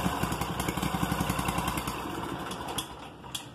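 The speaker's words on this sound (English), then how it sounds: "Cranked right up. On the first pull," An Echo small gas engine, started cold on the first pull, running with a steady rapid putter and clatter close by that settles into an idle, with no voices.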